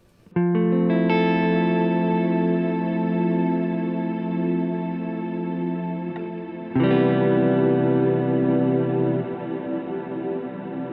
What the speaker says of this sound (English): As we continue turning, we'll get to near infinite reverb experiences.